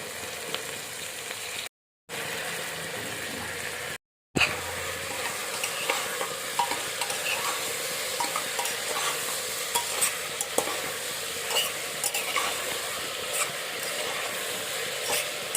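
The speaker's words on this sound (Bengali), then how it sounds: "এবারে এর মধ্যে আলু, গাজর, পেঁপে এই সবজিগুলো দিয়ে দেওয়া হচ্ছে।" Potatoes, carrots and papaya sizzle in a hot pan for chicken stew, with a steady frying hiss and scraping stir strokes, broken by two brief silent gaps.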